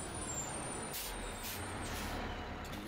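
A truck pulls in and stops, its air brakes giving two short, loud hissing bursts over a steady engine rumble, with no voices.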